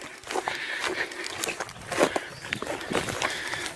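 Footsteps through spring grass in a field beside an old railway track, a series of soft irregular swishing crunches, close and moderately loud, without talk.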